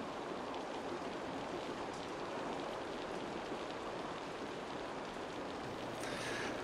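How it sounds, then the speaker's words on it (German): Steady rain falls in the video game Assassin's Creed Valhalla, an even wash of dense patter that continues unbroken and fairly faint, with no voices. "Nur der Regen, der ist natürlich jetzt nicht gerade Die schönste Atmosphäre."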